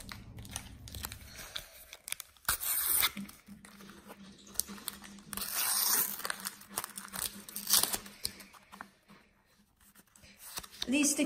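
A Panini 2018/19 football sticker pack being torn open and handled, giving repeated close crinkling, rustling and tearing of foil and paper in irregular bursts, with soft talk at times.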